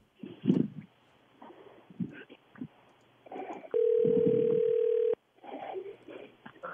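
A telephone ring tone on a live radio call-in broadcast sounds as one steady electronic burst of about a second and a half, with talk before and after it.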